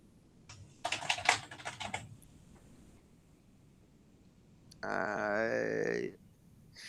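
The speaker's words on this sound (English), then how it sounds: "let's type in then Chatswood" Fingers tapping on a computer keyboard in a short burst of quick clicks, close and crisp, followed by a pause and a brief, louder, steadier noise near the end; no talking over the typing.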